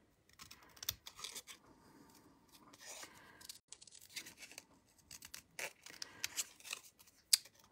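Scissors snip through card pieces for a handmade rainbow card, giving close, irregular bursts of cutting and rustling paper with short pauses between strokes.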